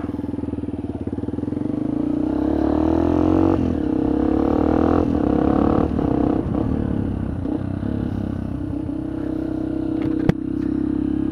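A Benelli Python 200 motorcycle fitted with a slip-on exhaust pulls away and rides off, its engine drone steady and loud throughout with a brief sharp knock near the end.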